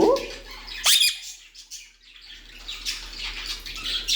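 Sparrows chirp in short sharp squawks and tweets, a bright call near the start and scattered chirps later, close and fairly loud over faint background noise.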